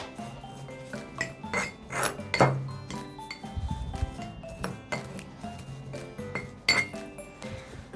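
A Thai herbal inhaler mixture is stirred in a small container, with close glassy clinks, scraping rubs and irregular tapping strokes, fairly quiet and without speech.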